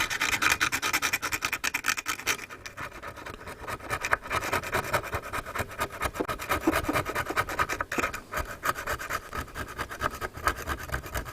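Old screwdriver scraping the corroded terminal of a rotten battery, a continuous harsh rasping and rubbing that runs loud and close throughout with irregular strokes.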